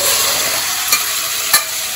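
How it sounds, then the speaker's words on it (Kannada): Oil frying in a pan while a lentil dish is cooked, giving a steady close hiss with two brief louder crackles partway through and no talk. "ಎಣ್ಣೆ ಕೂಡ ಫ್ರೈ ಆಗಿದೆ ಇವಾಗ"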